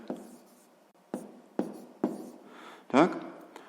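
Someone writes by hand on paper while working through a sixth-grade maths exercise: about six separate scratchy pen strokes, each a short burst that fades, heard up close in a quiet room.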